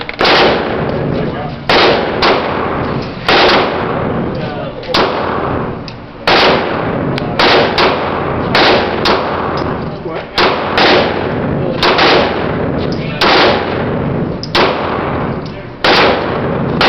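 A Glock 19 Gen 6 pistol fires from a metal magazine, with sharp, loud shots coming one at a time at an irregular pace, about a dozen over the stretch.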